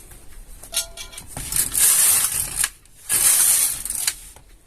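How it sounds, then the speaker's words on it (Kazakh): A Silver Reed LK150 knitting machine carriage is pushed across the needle bed twice, each pass a loud, close, rattling mechanical sweep with clicks, separated by a brief pause. "Екінші инені алдыңғы бос күйіне әкелеміз. 2 рет тоқимыз."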